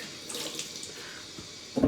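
Hot water runs steadily from a bathroom tap in a continuous faint splash, with a brief louder gush near the end.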